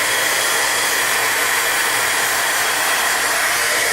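A hair dryer runs steadily at close range, blowing air to dry a wet painted background, a continuous even whoosh with no pauses or talk.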